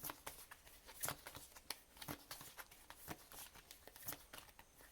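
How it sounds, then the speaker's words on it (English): Tarot cards being shuffled close up, quiet rapid riffling and flicking with irregular sharp snaps, no talking. "I'll keep shuffling until something feels right"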